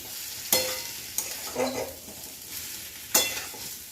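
Prawns tossed in a hot pan with elephant foot yam for a Bengali curry give a few sharp scraping stirs with a soft sizzle between them, close and moderately loud, with no talking.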